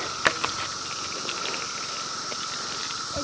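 Cicadas call outdoors from roadside bushes, a steady, dense buzzing drone that holds at an even level throughout, with a couple of faint ticks near the start.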